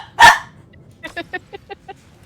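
A dog gives one loud bark, followed by a quick series of six short, fainter yips or barks in an even rhythm, with faint background noise.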